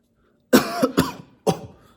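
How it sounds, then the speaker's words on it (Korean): A person coughs in three short, sharp bursts, two close together and then a third after a brief pause, while resting a front squat barbell against the collarbone. "지금 제가 이렇게 살짝만 눌렀는데도 지금 기침이 나오거든요"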